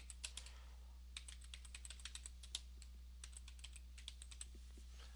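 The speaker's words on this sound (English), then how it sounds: "I'll just type in some text." Fingers type text on a computer keyboard, producing a quick, uneven series of light key clicks with brief pauses, close and quiet over a low steady hum.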